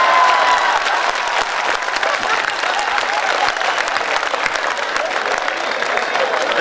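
Dense, sustained applause from a crowd at a Hindi comic poetry recital at a town festival; steady clapping at a constant level, with a faint cheer mixed into the crowd noise.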